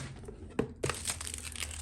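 Close, crisp crinkling of paper packaging while unboxing a Hobonichi planner, with a couple of sharp rustles followed by continuous crackly handling.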